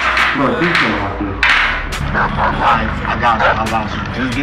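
A dog barks and yips in short bursts close by, mixed with voices talking over it.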